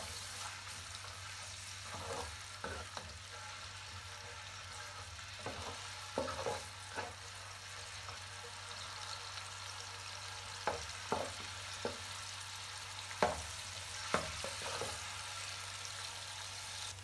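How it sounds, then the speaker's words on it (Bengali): A medium-sized onion browning over medium heat in a pan, giving a faint, low sizzle under a steady hum, with occasional soft clinks and scrapes as it is stirred. "মাঝারি সাইজের একটা পেঁয়াজ, বিসমিল্লাহ, একটু হালকা ব্রাউন করব"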